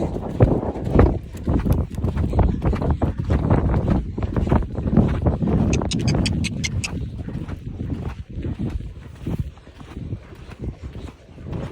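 A horse named Zeke canters in a show arena, its hooves beating a steady rhythmic clip-clop that stays close and continuous, with wind buffeting the microphone and a faint voice now and then.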